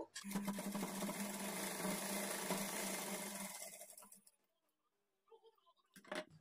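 A sewing machine runs a steady, fast whirring stitch along the folded edge of blouse fabric for about four seconds, then stops; after a quiet pause, a brief final burst of stitching follows.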